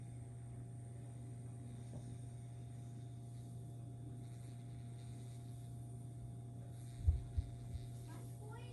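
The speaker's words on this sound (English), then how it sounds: "He done put on a black glove that it massages you." A vibrating black massage glove is used during a post-surgery lymphatic drainage massage. It gives a faint, steady, low buzzing hum throughout, with a few soft knocks near the end.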